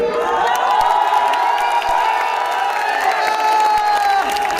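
A vast political rally crowd of lakhs in Lucknow roars continuously, a loud, dense, unbroken wall of cheering and shouting.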